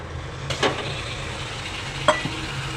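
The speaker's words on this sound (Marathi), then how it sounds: "आता मॅरिनेट केलेले मुशी घाला" Marinated shark pieces drop into hot onion masala in a pan, giving two short sizzling splashes with stirring clatter over a quiet background hiss.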